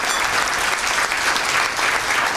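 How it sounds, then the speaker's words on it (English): Loud, steady audience applause for a physician speaker after a talk on living with multiple sclerosis, dense close clapping filling the whole short stretch without a break. "let's give a big round of applause to Dr."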